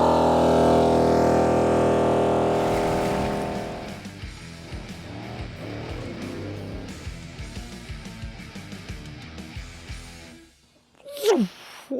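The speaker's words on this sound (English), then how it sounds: "our compressor will start to pump up" An on-board MORRflate TenSix air compressor mounted in a Toyota Tacoma runs loud and close to inflate a tire, a steady droning buzz that stops partway through and leaves rattling and clunking noises.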